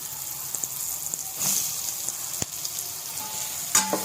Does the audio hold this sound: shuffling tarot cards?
no